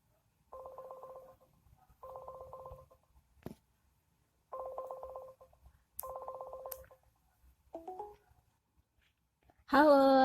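Telephone dialing and ringing on an outgoing call: four bursts of steady two-tone ringback spaced by silences, separated by a couple of short clicks, then a brief chirp and a loud burst of a voice answering at the end.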